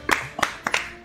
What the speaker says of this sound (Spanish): Un aplauso para él, un aplauso para Javi.